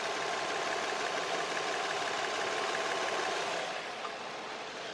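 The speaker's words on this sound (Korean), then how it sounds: "엔진 소음을 먼저 들려드리면은" A car engine idles quietly with the hood open, a steady, smooth hum with no audible roughness, about 130,000 km on the clock, heard close up without talk.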